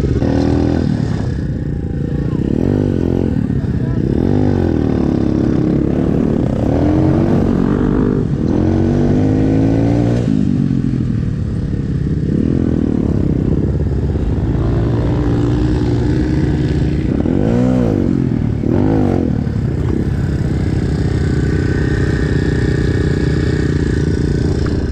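A quad bike engine runs close and loud, with a rough idle that keeps rising into throttle blips and revs and dropping back, along with some mechanical clatter.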